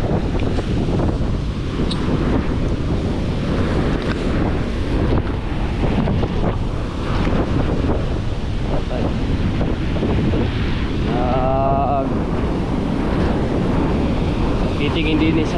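Steady wind buffeting the microphone over the broad wash of surf at the seashore at Bucana during flooding, continuous and loud, with a brief tonal whine near the middle.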